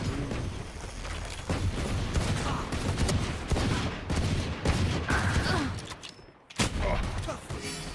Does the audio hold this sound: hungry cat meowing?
no